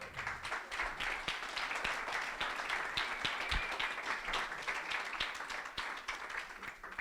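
A conference audience at GROW 2019 applauds, a dense, steady wash of many hands clapping that carries evenly through the whole stretch without voices.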